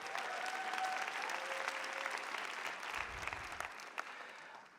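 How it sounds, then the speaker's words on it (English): An audience at a NAHA 2025 show gives a sustained round of applause, dense clapping from a large crowd that continues steadily and starts to fade at the end. "So give them a big round of applause,"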